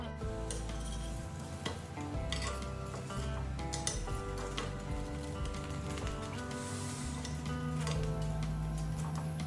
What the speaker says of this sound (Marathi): असं बटर लावून ब्रेड भाजून घ्यायचे